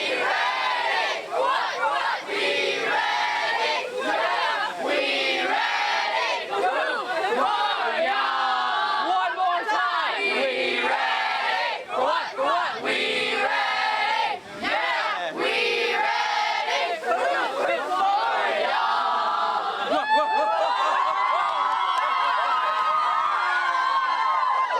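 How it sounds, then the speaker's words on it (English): Suncoast High School swim team shouting a loud group cheer together, a sustained chorus of rhythmic chanting and yelling by an enthusiastic crowd of kids that runs without a break, ending with a drawn-out call. "They even have a pretty cool cheer."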